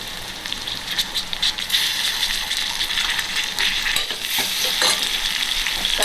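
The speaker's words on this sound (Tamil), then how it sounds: "தக்காளியை வதக்கிக்கலாம்." Chopped tomatoes sautéing in oil in a pan for sambar, after small onions have fried, with a constant close sizzle and the sharp scrape and clink of a spoon stirring against the metal pan.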